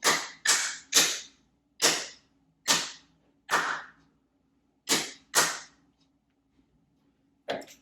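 Hands clap out a rhythm in 4/4 time for an ear-training exercise: nine sharp, close claps in an uneven pattern with gaps between groups, no voices.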